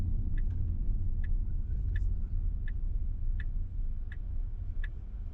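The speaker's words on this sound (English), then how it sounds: "See if it turns on the signal." A Tesla turn signal clicks in an even, steady rhythm, seven or eight soft ticks, faint over the low road rumble inside the moving car.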